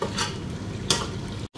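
Mutton karahi is stir-fried in a pan, a close sizzle with two quick scraping stirs and a brief cut-out near the end.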